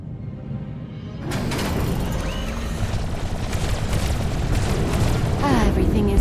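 A heavy boom erupts as a vessel is destroyed in Star Wars: The Old Republic, breaking in suddenly after a quiet opening and rolling on as a loud, sustained rumble with voices speaking over it.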